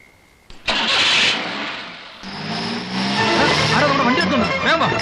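A car engine cranks and catches, then runs and revs up loudly as the vehicle is taken, with the engine noise continuing under overlapping voices and background sound effects.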